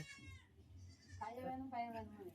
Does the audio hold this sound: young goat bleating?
yes